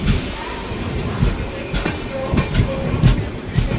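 The Vaigai Express passenger train from Madurai to Chennai rumbles past nearby with a steady roar and rolling wheel noise, a faint squeal and clanks rising over the din.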